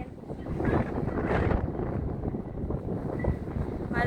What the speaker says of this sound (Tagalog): Malamig na ang hangin. Malakas-lakas na ang hangin.